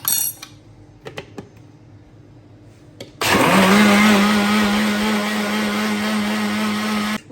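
A kitchen blender runs loud and steady for about four seconds, mashing watermelon with a tablespoon of lemon juice and a pinch of pink salt, after brief clinks of utensils and a quiet pause.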